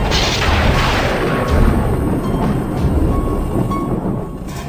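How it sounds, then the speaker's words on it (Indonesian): A deep, rumbling boom from an explosion inside a building rolls on with heavy low-end roar and noise, steady and loud throughout, like a distant blast echoing. "suara seperti ledakan dari dalam bangunan"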